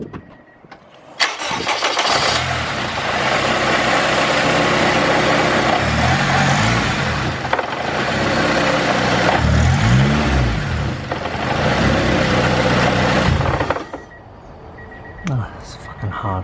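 A car engine cranks and catches, then revs hard and holds a loud, sustained roar for about twelve seconds, with pitch rising and falling, before cutting off, while people talk nearby around a suspected gearbox fault.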